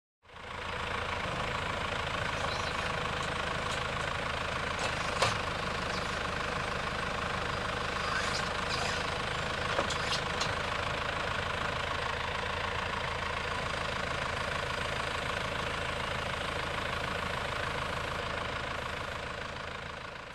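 A tractor engine idles steadily with a field sprayer parked in the field and the PTO engaged, a continuous even drone heard alone at moderate level with a few faint clicks.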